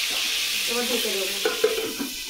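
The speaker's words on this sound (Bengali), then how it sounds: "পটল ভাজবো।" Pointed gourd fries in white oil in a very hot pan, giving a constant loud hissing sizzle, with a few soft stirring knocks and scrapes toward the end.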